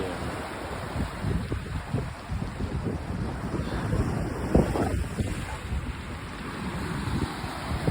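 Small sea waves lapping the shore at Bacoli, Italy. A continuous wash of water and surf runs under steady wind buffeting the microphone, with a few slightly louder splashes rising out of the constant rush.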